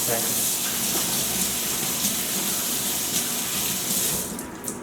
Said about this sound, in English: Just going to wash my hands first.